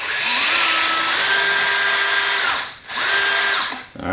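A power drill spins out headlight screws on an E-vader, whirring loud and close in two bursts with a short pause between them, then winding down at the end.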